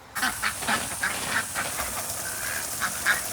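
Ducks quack repeatedly from a backyard duck coop, their calls steady and moderately near over a faint outdoor background, with no talking.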